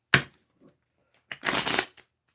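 Tarot cards shuffled in two bursts, a short riffle followed after a pause by a longer, louder flurry of card flutter, close and with no one talking.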